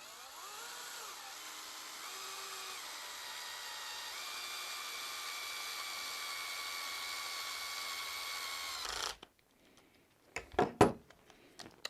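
Cordless power screwdriver tightening screws on a Tekno SCT410SL RC truck build, a close continuous high whine that shifts pitch a few times, then stops abruptly, followed by a few handling clicks and knocks.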